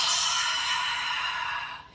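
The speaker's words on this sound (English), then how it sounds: "You take a deep breath in through your nose and out through your mouth." A single long, audible exhale through the mouth, close and breathy, holds steady before trailing off at the end, part of a slow deep-breathing exercise.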